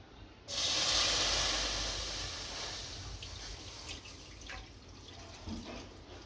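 Milk pours into a pan set on a lit gas stove for sweet vermicelli kheer, a sudden splashing hiss that starts strong and then settles into a softer, continuing trickle, heard alone without talk.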